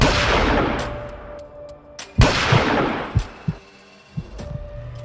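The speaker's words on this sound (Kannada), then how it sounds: "2 ಗುಂಡು ಹಾರುತ್ತೆ." Two sharp gunshots ring out in a staged television drama scene, each with a long fading echo, followed by a few softer thuds and knocks.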